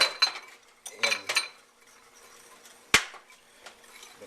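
A spoon clinks and scrapes inside a small custard cup of hot custard mixture made with egg, sugar and vanilla for homemade ice cream, a few quick bursts of clinking followed by quieter stirring and one sharp tap.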